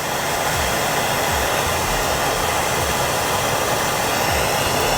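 A Nortel Minor glassworking torch flame heating glass, giving a steady, loud, even roar that lasts throughout with no breaks and no talking.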